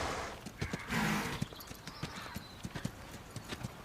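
Horse hooves clip-clop at a steady walking rhythm, fairly close and clear, with a brief snort or whinny-like burst near the start and a faint voice in the background.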